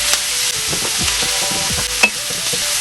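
Onions fry in a pan for pasta al forno, a bright steady sizzle with several scraping stirs of a utensil and one sharper knock near the end, close and alone without voices.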